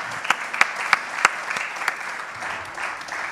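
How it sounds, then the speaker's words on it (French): Audience at a conference applauding, a modest spread of clapping with a few sharp, louder claps standing out near the microphone, continuing evenly throughout. "Je crois qu'on peut t'applaudir."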